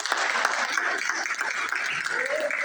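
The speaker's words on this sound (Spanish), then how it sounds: "Den un aplauso al Señor que está en el cielo." Applause from a congregation during a church service, a steady, moderately distant wash of clapping that lasts a few seconds.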